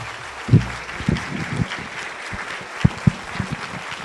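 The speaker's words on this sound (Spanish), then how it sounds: "fuerte el aplauso" An audience applauds after a lecture at Chapingo, with scattered claps and louder individual hits over a low room murmur.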